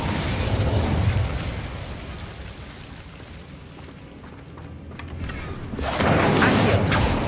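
Incendio fire spell bursts in Hogwarts Legacy gameplay: a loud whooshing blast opens, fades into a rumbling, crackling tail, then a second full-bodied burst erupts near the end.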